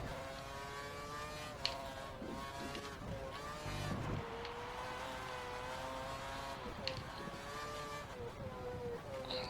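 An F1 car engine in the video game F1 2013 drones steadily with a high whining tone that rises and dips as it accelerates through corners, continuous and fairly quiet.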